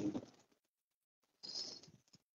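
Two short bursts of pigeons fluttering and cooing nearby, separated by a brief quiet gap.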